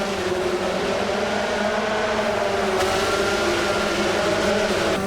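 A race car in Gran Turismo 7 daily races screams high in the revs, a loud, steady engine tone held without a break.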